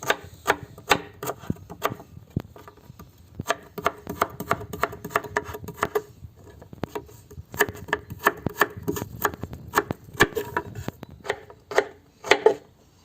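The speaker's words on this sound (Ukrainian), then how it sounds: "Нарізаємо моркву на плов, ріжемо на невеличкі брусочки." Rapid knife chops through carrots on a cutting board, slicing them into small sticks for plov, a dense run of sharp close-up taps in irregular bursts with brief pauses, no talking.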